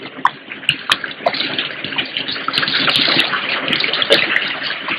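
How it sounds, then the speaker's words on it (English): Water gushes and splashes steadily as it is poured over a man's face, with a few sharp drips and spatters standing out and no voices. "Revive him with water. Pour it over his face."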